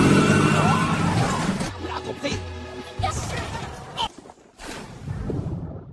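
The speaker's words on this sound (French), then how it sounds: "Soudain, la voiture accélère et manque de le percuter." A car engine roars loudly close by at the start, then the motor noise recedes and drops away while a narrating voice continues talking over the scene.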